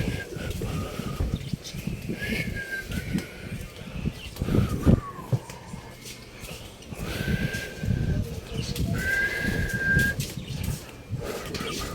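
Birds call in short, clear chirps at intervals over a noisy outdoor background, with a few faint voices nearby.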